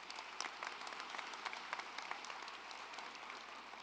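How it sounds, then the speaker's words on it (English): A graduation audience applauds the assistant principals, a dense, steady round of many hands clapping with sharper individual claps standing out. "Please give them a round of applause"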